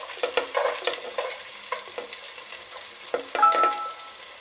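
Diced onion sautéing in a little oil in a pan, a soft crackling sizzle with the scrape and tap of a spoon stirring, close and fairly quiet, with no talking.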